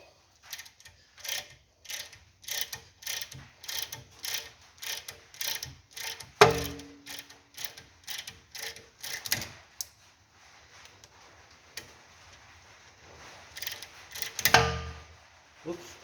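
A ratchet wrench cranks a 21 mm nut while an axle beam is being removed, producing a steady, rhythmic series of close clicking strokes for about ten seconds, then quieter scattered handling knocks.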